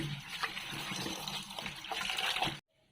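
Running water splashes and trickles close by while fish is rinsed for sinigang, a busy, uneven gush that stops abruptly near the end, with no talk.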